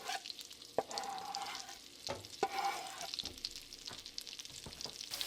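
Garlic cooking in butter with smoked paprika in a pan, a quiet close sizzle punctuated by several sharp stirring taps and scrapes, no speech.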